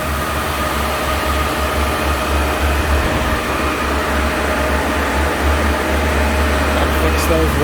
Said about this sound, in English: can hear those fans whistling away